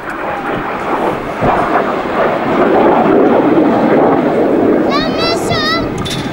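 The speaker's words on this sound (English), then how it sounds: "With the aircraft pointing vertically down, the boss is going to order the formation to separate into 7 sections spanning away from us" Hawker Hunter jets fly overhead in formation at an air display, a loud, continuous broadband roar that swells through the middle, with a brief high voice-like warble near the end.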